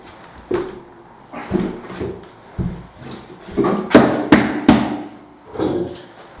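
Repeated hammer blows knock on a wooden floor joist, around a dozen sharp hits at an uneven pace, close by, some hits landing in quick bursts.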